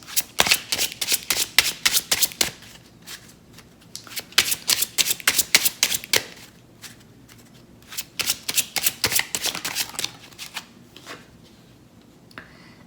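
Playing cards are shuffled for a tarot reading in quick, crisp riffling bursts close to the mic, several rounds separated by brief pauses, with no talking over them.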